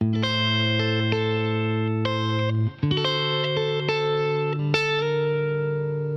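Distorted electric guitar chords ring out with a brief slide between shapes, notes sustaining with a processed, effected tone.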